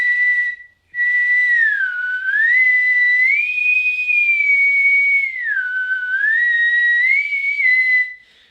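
A clear, close whistled tune, one sustained pure tone gliding smoothly up and down, with a short breath break near the start.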